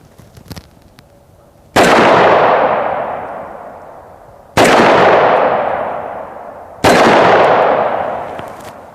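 .357 Magnum gunshots striking AR500 steel body armor: three loud, sharp reports with long ringing decays, spaced a few seconds apart, after a faint quieter stretch.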